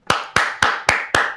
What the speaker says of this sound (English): Another clap for him, please.